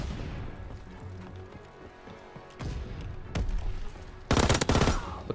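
Gunfire in the Call of Duty WW2 video game: a few scattered shots and thuds ring out, then a loud, rapid automatic burst erupts near the end.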